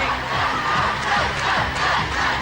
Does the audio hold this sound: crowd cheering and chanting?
yes